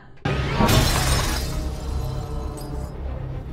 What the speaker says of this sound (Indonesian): Thomas bilang, satu-satunya jalan ya pecahin kaca, terus lompat ke bawah.